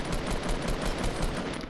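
Rapid automatic gunfire in the video game Fortnite, a fast, dense burst of loud shots in a steady stream with no talking.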